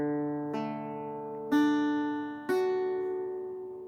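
A guitar chord strummed three times in a row, each strum ringing out and slowly decaying before the next, clear and close with no talking.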